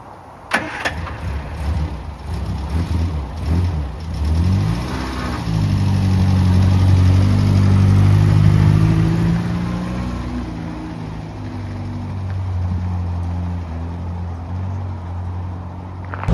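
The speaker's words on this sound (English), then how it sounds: "And we're off in our 1971 Morris Minor post office van." A 1971 Morris Minor 1000 Post Office telecommunications van starts up and pulls away, a close, throaty small-engine drone rising as it gets moving and then settling into a steady cruise.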